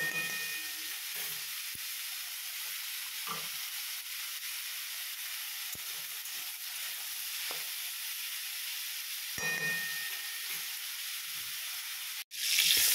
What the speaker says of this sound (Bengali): কড়াইয়ে তেল দিয়ে দিয়েছি, আর মাশরুমগুলো আর আলুটা একটু ভেজে নেবো আগে